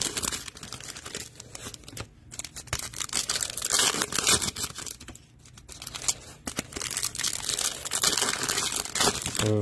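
Foil packs of 2022 Optic baseball cards being torn open, with steady close crinkling and ripping wrapper noise that runs throughout, dipping briefly once before picking back up.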